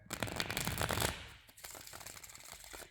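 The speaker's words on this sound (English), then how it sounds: "So, pre-shuffle is done." Tarot cards shuffled by hand in a riffling burst for about a second, then quieter scattered card slides and taps, close to the microphone with no talking.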